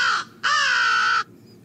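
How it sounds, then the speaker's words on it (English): American crow calls played back from a bird guide phone app: two loud, harsh caws close together, a short one followed by a longer drawn-out one, with nothing else heard. "And that's what a crow call sounds like."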